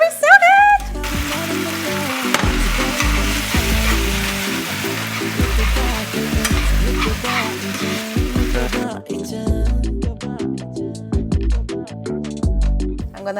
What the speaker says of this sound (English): finished cooking noodles in the sauce